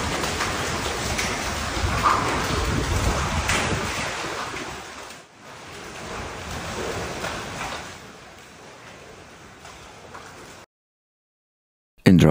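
Heavy rain pours during a violent storm in Sicily, a steady loud hiss with wind buffeting, easing briefly midway then resuming before cutting to silence near the end.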